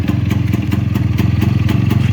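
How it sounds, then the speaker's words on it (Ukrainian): A restored IZh-49 motorcycle's two-stroke engine runs steadily close by, its rapid even exhaust pulses making a continuous loud clattering idle throughout. "Як вам робота двигуна?"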